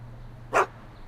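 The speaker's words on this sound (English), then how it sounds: "Why couldn't Doc have invented a dog translator?" A single short dog bark from Einstein, Doc's dog, in the Back to the Future video game, one brief burst standing out over a low steady hum.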